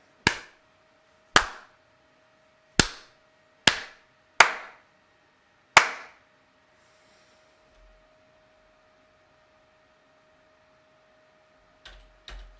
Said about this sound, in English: So this way, clapping should like turn on the lights permanently.